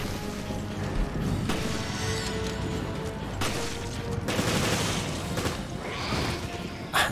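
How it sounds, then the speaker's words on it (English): Gunfire and reloading in the survival horror game Resident Evil: Revelations: a dense stretch of game action with repeated shots, heavy booms and mechanical clacks, loud and continuous, with no talk. "I gotta reload."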